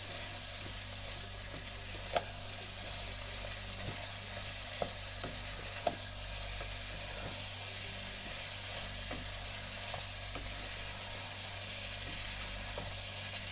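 Finely chopped potatoes fry in a pan while being stirred, a quiet continuous sizzle punctuated by occasional sharp clicks of the spoon against the pan, with no talking.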